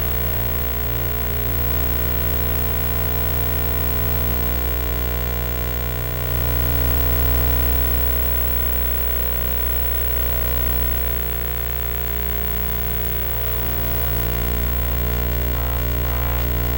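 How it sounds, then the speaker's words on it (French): Steady electrical hum with a buzzing edge from an old camera's transmitted audio signal, continuous and fairly loud for the whole stretch with dense harmonic lines and no voices. "voici le son de la caméra"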